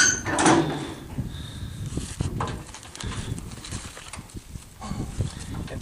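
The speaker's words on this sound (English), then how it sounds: "I'll open my trailer door." A horse trailer door is unlatched and swung open, giving a sharp metallic clank and rattle up front, followed by scattered knocks, shuffles and hoof thuds from a horse standing close by.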